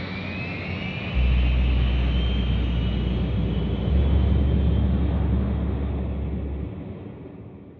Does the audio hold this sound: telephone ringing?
no